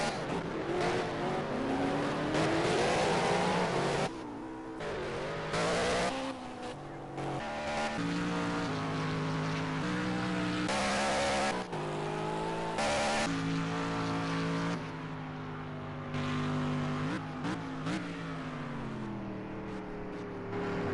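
Race cars roar through a PS4 racing game, engines revving up and down with shifting pitch and occasional tire squeal, loud and continuous throughout with brief gaps between passes.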